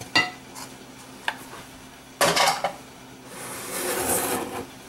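No-knead bread dough being mixed in a bowl, with scattered scraping and knocking strokes of a utensil, a couple of sharper clatters, then a longer rasping stir near the end, close and moderately loud with no talk.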